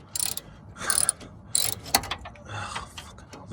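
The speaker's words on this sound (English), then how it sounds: "Hence the reason I'm now using this Fisher Price ratchet." Toy Fisher Price ratchet clicking while working a bolt out of a 2004 Honda Civic Type R during rust repair, several short bursts of ratcheting separated by pauses, close and fairly loud.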